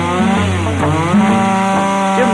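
A chainsaw cuts into a solid log for bush-art carving, its engine droning loud and steady with pitch dips and rises as the chain bites the wood.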